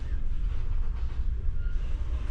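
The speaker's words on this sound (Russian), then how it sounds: "Так всегда бывает, когда начинает движение рядом стоящий поезд, кажется, что это мы поехали." Low, steady rumble of a neighbouring train starting to move beside a stationary passenger train, a continuous close heavy drone with faint rail noise and no talking.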